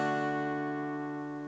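A major open chord strummed once on an acoustic guitar rings out alone, bright and full, with its sustained strings slowly fading.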